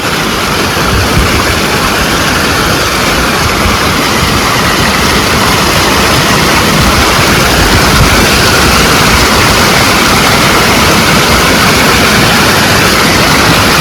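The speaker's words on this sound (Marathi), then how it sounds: "पाण्याचा प्रेशर लय आहे" Strong-pressure water rushes loudly and continuously at a fishing spot, a dense, unbroken roar close by with no voices audible over it.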